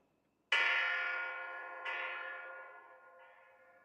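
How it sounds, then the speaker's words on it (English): A bell rings during a stage performance of Macbeth: two loud, resonant strikes about a second and a half apart, each ringing out with a long decaying tone, followed by a fainter third stroke, alone against silence. "The bell invites me."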